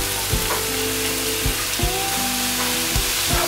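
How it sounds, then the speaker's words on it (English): Cauliflower rice and translucent onions sizzle steadily in a pan, with a few scrapes and knocks of stirring breaking through the frying hiss, close and alone. "My onions have turned a little translucent and now I'll add in my cauliflower rice."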